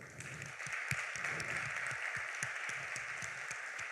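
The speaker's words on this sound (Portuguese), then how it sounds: "Você pode dar um aplauso ao Senhor?" A church congregation applauds, a faint, steady wash of clapping with rhythmic beats running through it, with no talk over it.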